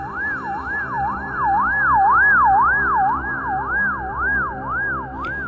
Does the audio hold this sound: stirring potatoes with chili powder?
no